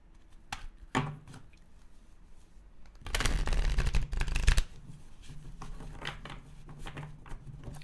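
Tarot cards being shuffled by hand at close range, a few soft riffles early, then a louder dense burst of rapid card flicking around the middle, followed by quieter shuffling with no talk.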